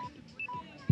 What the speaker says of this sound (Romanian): Telefonul meu a rămas fără baterie.